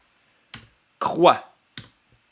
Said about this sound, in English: And then I click add